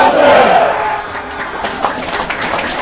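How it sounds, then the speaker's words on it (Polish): Spectators in the stands at a women's handball league match between Pogoń Szczecin and Stomilanki Olsztyn raise a loud burst of crowd noise and applause that peaks at the start and then eases into a busy, shouting hubbub. "Na trybunach niosą się głośne oklaski."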